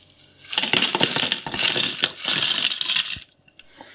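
Crushed ice poured into a blender jar of pineapple juice and frozen strawberries for a slushy, a dense close clatter of cubes rattling down for about three seconds, then a few last stray pieces.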